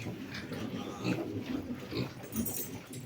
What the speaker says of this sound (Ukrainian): друзі, відлучили ми поросят